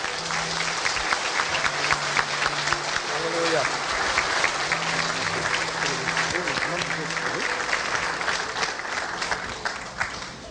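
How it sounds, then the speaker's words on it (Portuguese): A church convention congregation applauds during a service, sustained dense clapping that carries on the whole time with voices and cheers mixed underneath. "aplauda Jesus."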